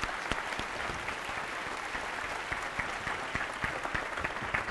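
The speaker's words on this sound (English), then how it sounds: "give them a warm round of applause" A warm round of applause from an audience welcoming guests onto a stage, many hands clapping steadily with a few sharper individual claps standing out, no speech.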